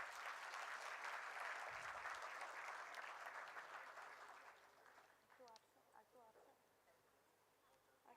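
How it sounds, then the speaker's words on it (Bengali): An award ceremony audience breaks into dense, sustained applause that holds for several seconds, then thins and fades. It ends in a few scattered, trailing claps. "তাদের জন্য একটা জোরে করতালি"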